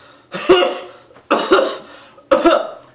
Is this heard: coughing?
yes